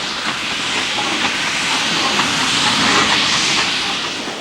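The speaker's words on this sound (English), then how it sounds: "Coming up to the camera is a local train for Hertford, which will have started from Moorgate, carrying all those city clerks home." A 1930s–1950s local steam train bound for Hertford from Moorgate approaches with a steady, loud broadband hiss of steam and rolling rail noise, unbroken by talk.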